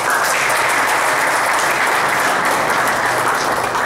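An audience at the opening ceremony of an Asian billiards and under-21 snooker championship applauds in a dense, continuous roar of clapping that holds steady and loud from start to finish.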